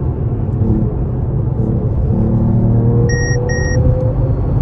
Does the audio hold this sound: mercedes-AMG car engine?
yes